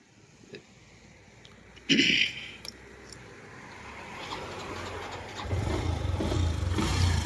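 A motorbike engine is started after a rubber tube repair, with a sharp mechanical burst early on, then a low engine rumble that builds and settles into a steady running drone near the mic.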